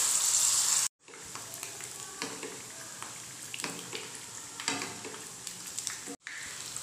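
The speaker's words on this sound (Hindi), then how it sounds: "तो चलिए हम इसी तरीके से सभी बॉल्स को फ्राई कर लेते हैं।" Breakfast balls fry in oil in a pan over a medium flame, giving a steady sizzle with occasional crackles and soft stirring scrapes, briefly cut out twice.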